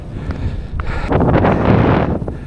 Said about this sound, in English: this wind is pulling the thing twice as hard